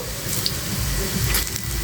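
Meat-filled puli pitha, just turned over, fry in oil in a pan with a steady, close hiss and sizzle that stays even throughout, no voices.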